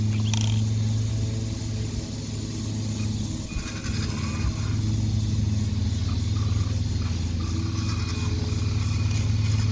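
A WPL C14 RC crawler truck with portal axles, metal links and lead-weighted wheels crawls along slowly in first gear, its small motor giving a steady low whine and rumble that holds constant throughout without a pause.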